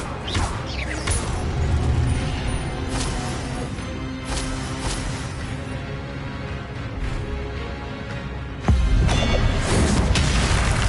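Repeated fire spell casting during combat in the video game Hogwarts Legacy, dense whooshing bursts and crashing impacts layered over busy game sound, with a heavier boom near the end.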